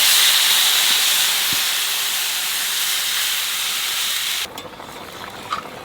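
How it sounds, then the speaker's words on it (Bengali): Water poured into a hot pan of potatoes and green chillies, giving a loud, close burst of hissing steam that holds steady for several seconds, then cuts off abruptly to a quiet simmer. "লঙ্কা দেওয়ার সাথে একটু জল দিয়ে দেবো"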